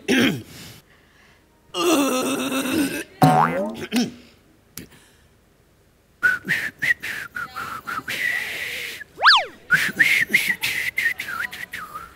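On a comedy stage, a man tries to whistle but produces mostly breathy, hissing blows of air broken by brief squeaky pitch slides. The bursts come in uneven spurts separated by pauses.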